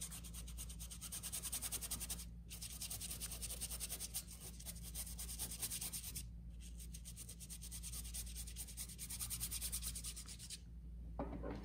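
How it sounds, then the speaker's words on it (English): Continuous close scratchy rubbing of a paintbrush across rough cloth canvas during painting, a steady rasping texture with brief pauses over a low background hum. "You can hear how rough this canvas is just by the texture."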